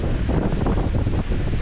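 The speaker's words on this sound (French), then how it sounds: "du vent dans les 30 nœuds, on a vu une pointe à 39" Strong wind of around 30 knots, gusting toward 39, buffets a sailboat under a reefed mainsail and partly furled jib, a loud, constant roaring rush with microphone buffeting and no voices.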